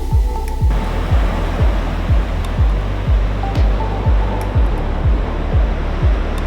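Steady roar of surf washing onto a beach at Ocean City, Maryland, with a regular low thumping, like footsteps, running through it.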